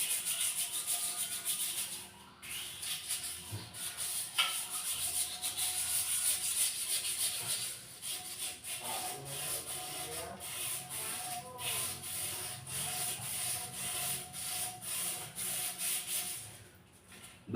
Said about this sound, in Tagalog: Bali, liha na pala ang ginagamit natin para matanggal.